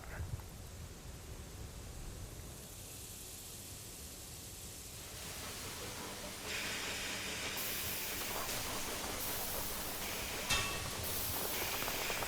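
Two trains run on a track in the video game Railway Empire 2, a steady hissing, steam-like rumble of rolling rail traffic that swells slightly partway through and continues without any voices.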